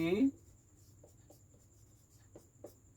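A pen scratches on paper in faint, short strokes in a quiet room, with soft rhythmic scribbles after a voice briefly talks at the start.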